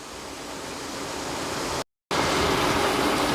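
Mutton frying in oil in a pot for yakhni pulao, a steady broadband sizzle that holds evenly throughout, broken by a brief dropout partway, with no talk over it.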